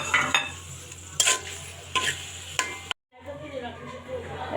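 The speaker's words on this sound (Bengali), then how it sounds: "তারপরে দেবো এই যে টমেটো আর হচ্ছে আদা রসুন বাটা" Tomato and ginger-garlic paste fry in a pan in a soft steady sizzle, punctuated by a few sharp spatula scrapes and knocks against the pan, with a brief gap before the sizzling resumes.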